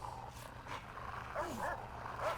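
A dog in the prison-building game Prison Architect gives brief yips and whimpering barks amid game ambience, with a faint low hum underneath.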